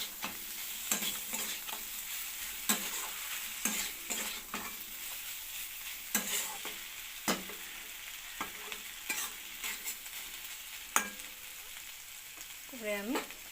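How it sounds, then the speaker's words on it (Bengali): Taro stolons stirred with frying prawns in a pan, a steady sizzle under repeated scraping strokes of a utensil, close and moderately loud with no talking. "একটু নাড়াচাড়া করব।"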